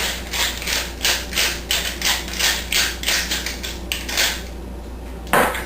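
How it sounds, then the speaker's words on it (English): A pepper mill grinds fresh black pepper over a cabbage roll filling in a quick series of crunchy, rhythmic twists, close and fairly loud, with no talking. "Then I just want to give it a blast of freshly ground pepper"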